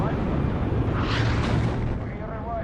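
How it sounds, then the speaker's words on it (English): A steady rumble of distant cluster munition explosions in the game WARNO rolls on continuously, with booming bursts layered over one another like a barrage. "the way that like both HE explosions and like cluster explosions look different"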